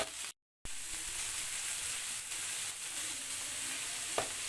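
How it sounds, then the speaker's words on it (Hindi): Chopped onion, cut into large pieces and washed beforehand, sizzles and fries steadily in a hot pan while being stirred. The hiss stays close and continuous, broken once by a brief gap near the start. "उसके बाद मैं इसके अंदर ऐड कर दूंगी एक बड़े साइज का चॉप किया हुआ प्याज"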